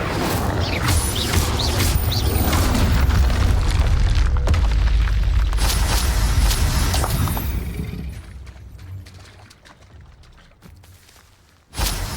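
A Bombarda spell blast in Hogwarts Legacy erupts as a heavy, rumbling boom with crashing debris, loud and sustained for several seconds before fading into scattered clatter, with a sharp hit at the very end.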